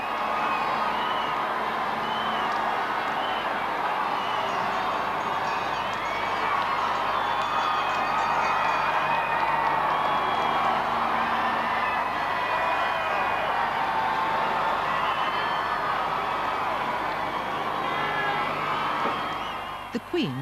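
A vast crowd at the royal wedding of Harry and Meghan in Windsor roars and cheers continuously, a dense, steady wall of distant voices and whoops that never lets up.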